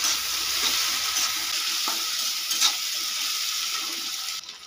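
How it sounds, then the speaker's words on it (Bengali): Chopped tomato and ginger-garlic paste fry with onions in a hot pan, giving a dense continuous sizzle with light stirring scrapes near the start and no talking. "দিয়ে দেবো একটা মোটা সাইজের টমেটো কুচি, আর দিয়ে দেবো 1 চামচ আদা ও রসুনের বাটা। খুব ভালো করে মিশিয়ে নেব পেঁয়াজের সঙ্গে।"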